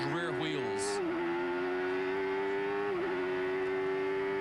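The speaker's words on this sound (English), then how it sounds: "Sometimes you hear the engine begin to stutter as the brakes grab those rear wheels." A 1991 CART race car at Laguna Seca holds a steady engine note that dips and wavers briefly under heavy braking, loud and close, with a short high squeal near the start.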